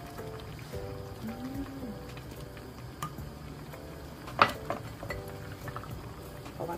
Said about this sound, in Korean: 보글보글 이렇게 또 끓고 있죠.